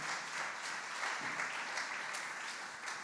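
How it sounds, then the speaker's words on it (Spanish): A church congregation applauds during a Spanish-language sermon, a steady even wash of many hands clapping at moderate distance for a few seconds, with no speech over it. "Den un aplauso a la palabra del Señor, por favor, el día de hoy."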